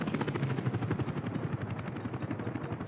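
Helicopters in the video game Workers & Resources give a rapid, rhythmic rotor chop, steady and fairly faint, alone without talk.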